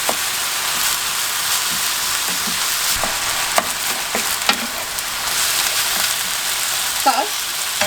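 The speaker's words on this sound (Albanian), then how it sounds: "E përzimi mirë qepën edhe mishin, derisa mishi të me një ngjyrë të kaftë" Chopped onion and minced meat sizzle steadily in a hot pan for Albanian-style stuffed peppers, with a constant crackling hiss and a few soft scrapes and clinks as the mixture is stirred, close up and with no talking.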